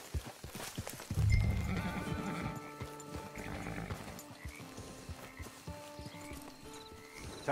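A horse in the Red Dead Online video game gives a loud, drawn-out whinny, followed by steady clip-clop of hooves close by and a few fainter neighs, with no speech over it.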